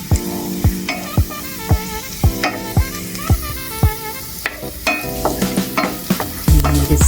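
Marinated shrimp with garlic sizzle loudly in a hot pan while a utensil scrapes and knocks against it in a regular stirring rhythm, roughly one stroke per half second, close up and without talk.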